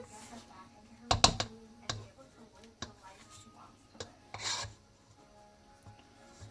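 Spatula scraping thick, stiffening cookie dough around a bowl, giving a few sharp rasping strokes followed by softer rubbing scrapes, close and fairly quiet.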